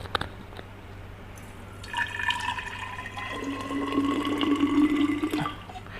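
Water pours steadily into an earthen clay pot, the splashing stream rising in pitch as the vessel fills; close and fairly loud, with no voices.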